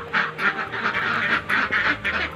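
Laying ducks in a farm pen quack loudly and repeatedly in a steady run of overlapping calls, close by and with no talking.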